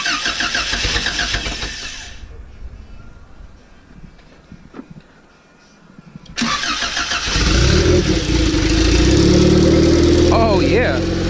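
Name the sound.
turbocharged Honda EG9 engine starting and revving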